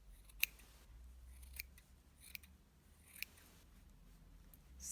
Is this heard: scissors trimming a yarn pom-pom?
yes